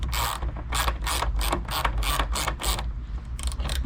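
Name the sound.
ratchet with 8mm socket removing tail lamp nuts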